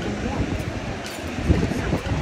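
Wind gusts over a beach on Tasmania's north-west coast at dusk, a steady rushing buffet with low rumbling swells that rises and falls, carrying on alone without voices.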